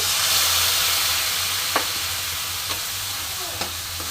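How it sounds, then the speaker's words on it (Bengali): Spice paste for a katla fish curry fries in a pan with a little added water, a loud continuous sizzle and hiss broken by a few light stirring taps. "এবার আমি এইভাবে অল্প জল দিয়ে দিয়ে কষবো।"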